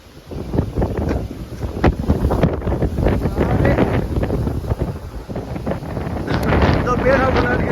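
A strong storm wind blows hard over a threshed rice field where straw and husk are scattered, with steady loud gusting and buffeting across the whole span and voices talking faintly underneath.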